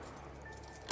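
Keys jangle in a fan-made Halloween video game, a short metallic rattle near the end over a quiet, dark ambient hum.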